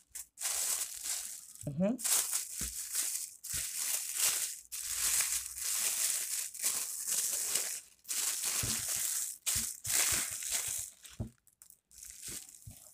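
A plastic bag crinkles and rustles close up while being wrapped around salted fish (fesikh), in repeated loud bursts separated by short pauses.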